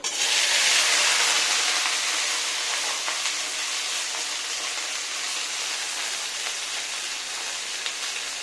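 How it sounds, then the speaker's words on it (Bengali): Chopped okra hits hot oil in a pan and sizzles loudly with a bright, crackling hiss that is strongest at first and then settles into a steady, slightly quieter fry. "এবার কেটে রাখা ভেন্ডিটা দিয়ে দিব"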